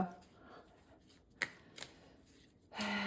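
Tarot cards are shuffled for a reading, with a few crisp riffles and snaps and a louder burst of shuffling at the end, close and fairly quiet.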